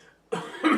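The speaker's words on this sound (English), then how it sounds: "Sorry, I coughed." One sharp cough from a podcast host, close to the microphone, is followed by a rougher second burst like a throat-clearing, all within a second after a moment of near silence.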